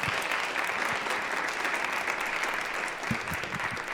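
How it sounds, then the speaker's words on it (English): Audience at an entrepreneur pitch competition applauds steadily, a dense, loud wash of many hands clapping together with no voices over it. "Let's also give them a round of applause"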